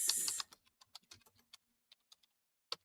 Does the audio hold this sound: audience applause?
no